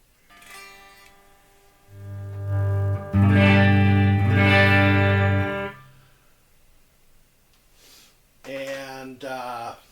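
An Epiphone '59 Les Paul Standard electric guitar played through a clean amp channel rings out in sustained chords that swell and fade, followed by a few shorter plucked notes.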